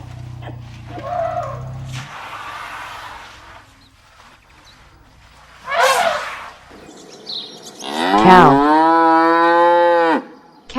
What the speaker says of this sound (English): Cows are herbivores, have two horns, and vary in color, size, and appearance.